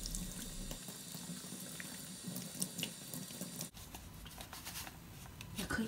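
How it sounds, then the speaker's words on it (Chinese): Tap water runs into a sink while courgette flowers are washed under it, a steady close splash with small shifts and handling noises. "这个花呢一定要好好洗一下"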